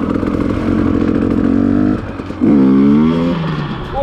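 A dirt bike engine revs hard during a wheelie attempt, a loud buzzing note that drops off for a moment and then climbs sharply again before easing back.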